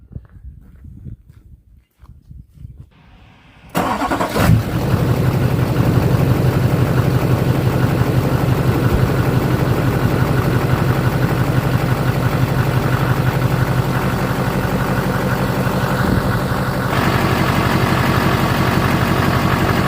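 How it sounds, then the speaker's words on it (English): An LBZ Duramax diesel truck engine cranks and starts, then idles steadily with a loud, close, continuous low rumble for the rest of the stretch. "I'm going to start the truck, let it run"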